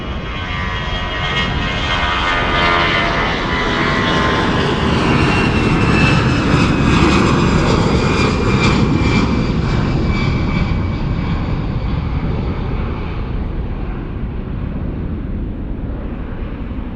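A Lufthansa airliner bound for Belgrade passes at Munich Airport, a loud jet engine roar with a whining tone that swells to a peak mid-pass and gradually recedes, steady and alone without talk.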